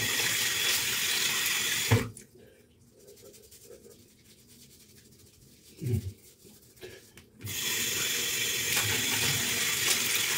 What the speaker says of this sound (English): So we'll just wash off the beard first and then I'll wash off the hair.